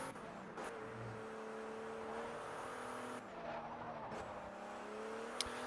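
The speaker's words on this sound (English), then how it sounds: "hearing the delicious noise of the cars" Car engines in the racing game Forza Horizon, cruising in a Pagani Huayra, hold a steady mid-revs drone with brief gear-change dips and a faint tyre skid, heard alone at low volume.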